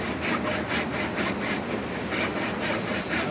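A hand saw cuts through wood clamped in a vise, with steady rhythmic back-and-forth rasping strokes, close and continuous, with no talking.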